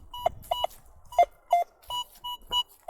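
A Gauss metal detector sweeping in a forest sounds a signal: about eight short, sharp electronic beeps in an uneven rhythm, close and clear with quiet gaps between them.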